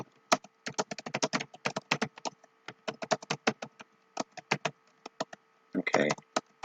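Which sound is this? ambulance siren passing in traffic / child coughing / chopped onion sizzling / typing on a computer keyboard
typing on a computer keyboard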